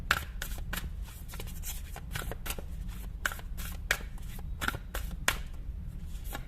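Tarot cards shuffled by hand in a steady run of crisp, riffling flicks with sharper snaps every half second or so, close and fairly quiet over a low background hum.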